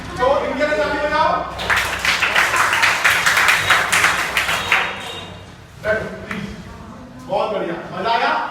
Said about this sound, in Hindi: तो इनके लिए ताली बजाओ